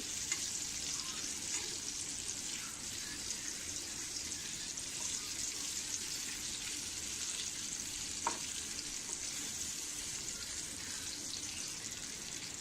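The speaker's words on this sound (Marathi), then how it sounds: "आता पाच मिनटांनी मी हे बांगडे असे परतून घेते" Bangda mackerel pan-fries on a slow flame, giving a steady, fairly quiet hiss and crackle throughout with a single faint knock near the end and no speech.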